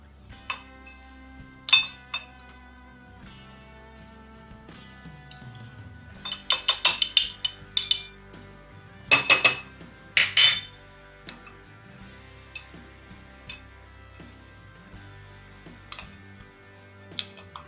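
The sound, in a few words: stirring Nido powdered milk into milk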